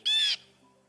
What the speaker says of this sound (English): Here's a blue jay.